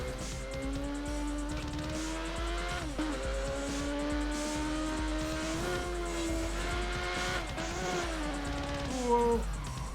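Cars race in the video game Burnout Paradise Remastered on Nintendo Switch, with a continuous loud engine drone rising and falling through gear shifts and revs, plus occasional tire squeals.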